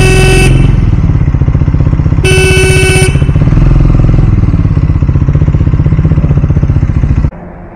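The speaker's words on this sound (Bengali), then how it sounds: "চলো বাইক চালাবো।" A Triumph Scrambler motorcycle rides through Kolkata traffic, its engine a loud, close, steady throb. Two bright horn blasts cut in from nearby vehicles, one short and one longer, and the engine sound drops off abruptly at the end.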